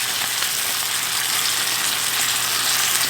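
Rice, black beans and goat curry sizzle steadily in a pan as they are stirred, a loud, close, continuous frying hiss with no talking.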